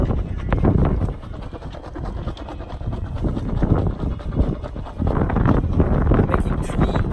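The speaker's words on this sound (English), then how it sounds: "Talking a lot about gusts today because we have a lot." Strong wind buffets the microphone in rumbling, surging gusts that rise and fall continuously, with no clear voices, aboard a sailboat during a storm on Lake Chiemsee.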